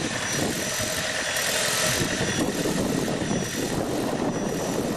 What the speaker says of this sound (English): Now it's still doing the revving, but not as hard.